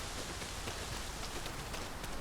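Steady rain falls in the video game Dragon's Dogma 2, heard as an even, dense hiss of rainfall without breaks across the whole short stretch.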